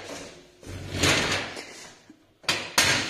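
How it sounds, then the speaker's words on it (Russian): Metal stepladder being folded, a series of rattling scrapes and clanks followed by two sharp metallic knocks near the end, close and moderately loud. "Вот никогда не умела я эти лестницы складывать."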